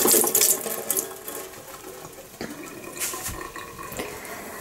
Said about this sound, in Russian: Сейчас я его просто уже залила водой колодежной.